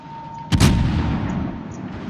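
Naval guns of a New Orleans tier 8 cruiser fire in World of Warships, one heavy booming salvo with a long rumbling tail over steady background engine hum.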